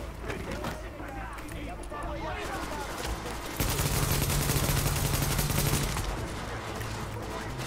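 An enemy fires on the player in the Tom Clancy's The Division video game: dense, sustained automatic bursts rattle loudly, with a louder, thicker stretch midway amid constant combat noise.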